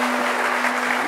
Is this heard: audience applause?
yes